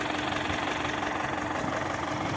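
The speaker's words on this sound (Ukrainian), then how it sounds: "як мотор тягне ці два корпуси" An MTZ-80 tractor engine labors steadily while pulling a two-bottom plow during plowing, a dense continuous drone with a knocking diesel texture, close and loud with no pauses.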